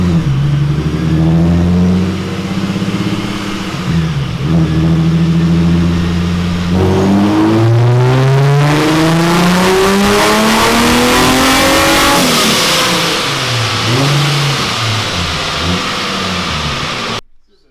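A car fitted with a Vortech supercharger revs hard on a dyno, its engine note climbing in rising sweeps with a whining supercharger, very loud and close, easing and surging before cutting off abruptly at the end.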